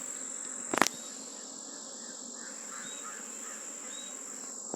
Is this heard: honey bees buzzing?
yes